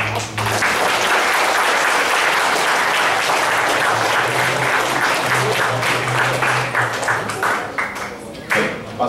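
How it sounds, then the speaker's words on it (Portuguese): An assembly audience at a youth Buddhist congress claps to approve a report, a loud, sustained burst of many hands that stays dense and even, then thins and breaks into scattered claps near the end. "batem as palmas para a aprovação do relatório"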